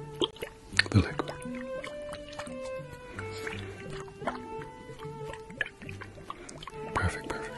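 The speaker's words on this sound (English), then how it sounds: "Tell me which side you hear the liquid." Liquid sloshes inside a small container shaken near the ear during an ASMR cranial nerve examination, with soft, close swishing and dripping sounds under a quiet voice and faint tonal background.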